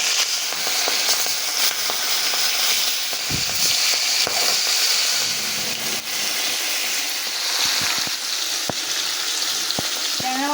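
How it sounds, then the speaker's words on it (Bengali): Rohu fish pieces, salted and rubbed with turmeric, fry in hot oil with a dense, steady sizzle and crackle that runs the whole way through, broken by scattered sharp pops and spits. "তেলটা গরম হয়ে গেছে, এবার আমি একে একে মাছগুলো ভেজে নেব"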